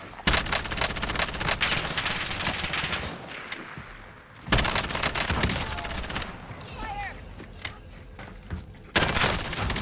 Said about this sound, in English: I'm shooting fucking guys, but I don't know